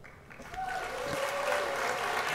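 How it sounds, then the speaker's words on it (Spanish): Applause sound effect fired from a Stream Deck during a Forza Horizon 5 stream, a crowd clapping that swells in and holds at full level, with a brief voice layered in. "Y un aplauso para ti."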